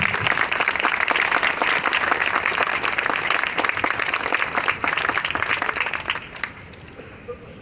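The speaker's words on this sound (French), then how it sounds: "On peut nous applaudir." A crowd at a gathering gives sustained, dense applause that holds steady, then thins out and fades to scattered claps near the end.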